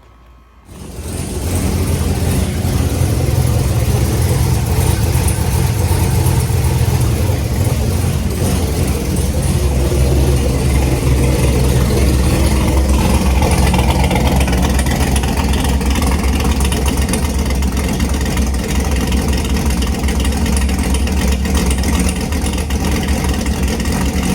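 A C6 Corvette engine cranks and fires up after a brief quiet start, then settles into a loud, steady, rumbling idle that continues close by to the end.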